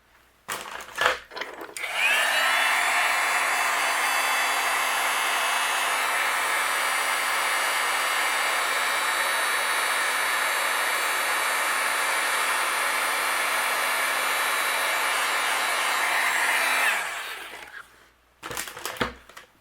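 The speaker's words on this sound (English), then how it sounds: "I'm going to melt this with my heat gun." A heat gun melts white embossing powder on molasses-colored cardstock, blowing a loud, steady whoosh with a faint fan whine for about fifteen seconds before shutting off, with small handling clicks before and after.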